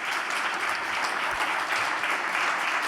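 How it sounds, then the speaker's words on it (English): A conference audience applauds panelists at a space-industry session: a steady, dense wash of clapping from many hands, fairly distant and even throughout. "let me just ask for a round of applause for our panelists"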